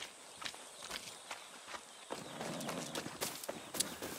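Horse hooves in the video game Far Cry 6, a series of soft, irregular thuds that grow busier and louder midway, with no speech.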